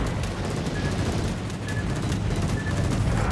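Battleship main guns firing semi-armor-piercing shells in a naval warship video game, a dense continuous barrage of booming gunfire with rumbling low end and no pauses.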